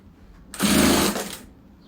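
A sewing machine stitches old jeans into a pot holder, one short loud burst of rapid mechanical whirring for about a second, with quiet before and after.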